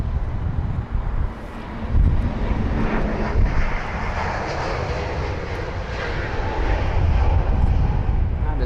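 A Lufthansa Airbus A320 takes off from runway 27R at London Heathrow, its jet engines a steady, broad roar at a distance, mixed with wind buffeting the microphone and no talking.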